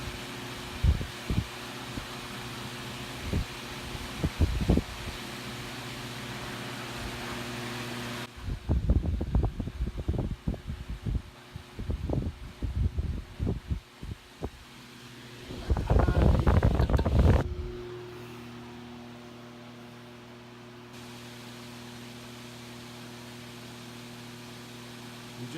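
Vintage Vornado 'Behemoth' fan humming on its low setting, a steady airy whir with a low motor drone, broken by intermittent thumps and handling knocks close to the microphone.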